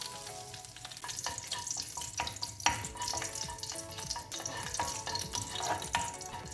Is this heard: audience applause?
no